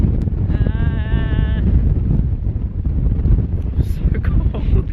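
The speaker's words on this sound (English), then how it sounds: "It is so windy. We can barely stand still." Strong, gusty wind buffets the microphone on an exposed hillside on the Isle of Skye, a loud continuous roar, with a sheep bleating briefly and voices faintly mixed in.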